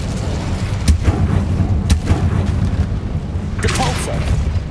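Incendio fire spell cast in the video game Hogwarts Legacy, loud booming fire bursts with sharp blasts over a dense rumbling game soundscape, a voice speaking briefly.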